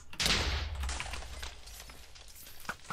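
Shots fired at a boss's eyes in a Minecraft adventure map: a short burst of sharp gunfire-like cracks, moderately loud, over about three seconds with game noise behind.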